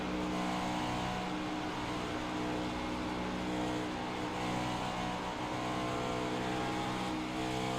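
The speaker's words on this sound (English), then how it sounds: "Listen to Coleridge playing with that throttle mid-turn." Race car engine in a stock-car racing video game at Darlington, throttle blipped and modulated mid-turn, a steady loud drone with wavering pitch throughout.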